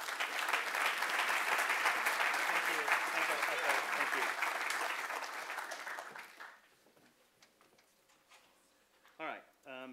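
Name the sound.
audience applause welcoming a speaker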